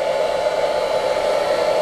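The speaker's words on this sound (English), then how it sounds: "So we're back to the Izunami Professional Agile Blow Dryer." An Izunami Professional Agile Blow Dryer drying hair gives a loud, steady, close-up whirring drone with a constant airy hiss, unbroken throughout and heard alone without talk.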